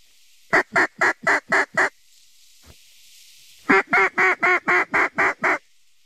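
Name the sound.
ducks quacking and flying overhead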